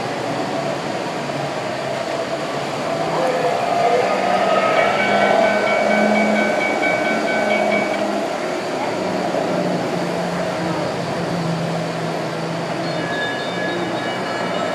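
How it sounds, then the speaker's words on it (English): A freight train rumbles steadily nearby with a broad droning roar and faint metallic squeals, continuous throughout with no clear start or end. "We got the train that just passed."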